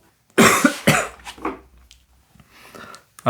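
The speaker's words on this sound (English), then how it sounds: "This is not intentional. This is real cough." A person coughs hard twice up close, followed by softer throat sounds and breathing.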